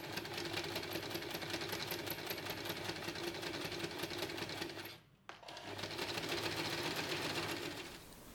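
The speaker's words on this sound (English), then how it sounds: "Then top stitch close to the folded edge for a clean finish." A sewing machine top-stitches close to the folded top edge of a tote bag, rattling steadily and close. It pauses briefly, then runs on at the same pace.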